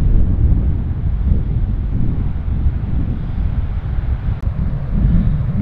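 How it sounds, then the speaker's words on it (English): Wind gusts steadily across a championship links golf course, a loud continuous low rumble buffeting the microphone with no talking. "Wind's off the right."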